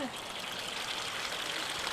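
Water pouring steadily into a homemade plastic chicken waterer, a continuous close gushing trickle throughout.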